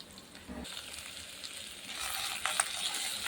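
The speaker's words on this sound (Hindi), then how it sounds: "सर्वप्रथमे पियाज आ तेजपत्र को फ्राए करा" Onion and bay leaf fry in a pan with a soft, steady sizzle that grows slightly louder, with a faint stir near the start.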